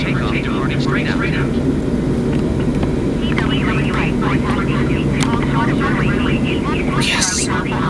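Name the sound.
airliner engine taxiing in Microsoft Flight Simulator 2020 video game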